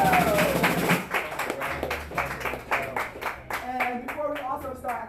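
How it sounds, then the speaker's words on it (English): A crowd at a small-works gallery show claps and cheers for the artist Paco, a lively, uneven mix of close handclaps and taps, with voices and shouting mixed in throughout. "So give Paco a round of fucking applause."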